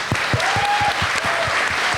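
Audience applause for a guest's beard at a live streaming talk, a dense steady wash of clapping with low thumping pulses and a faint sustained tone, loud and continuous throughout.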